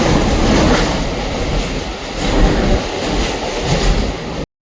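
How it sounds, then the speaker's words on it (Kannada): A Mumbai local train pulls into Cotton Green station, with loud, close rumbling, rattling carriages and rolling wheel noise that eases slightly before cutting off. "ಇವಾಗ ನಮ್ಮ ಟ್ರೈನ್ ಬಂದಿದೆ ಈಗ ಕಾಟನ್ ಗ್ರೀನ್ ಸ್ಟೇಷನ್ಗೆ."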